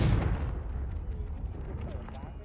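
Confringo spell blast in the video game Hogwarts Legacy: a heavy, booming burst at the start that rolls off into a long, rumbling decay, loud and close.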